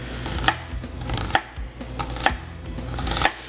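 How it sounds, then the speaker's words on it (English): A knife cuts an onion along its lines on a board, four sharp, evenly spaced chops over a low background hum, close and clear with no talking. "we're gonna cut with the line of the onion"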